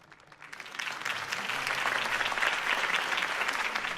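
Applause from a crowd after a political campaign speech in Batman: The Telltale Series swells from a few claps into sustained, dense clapping that holds steady to the end.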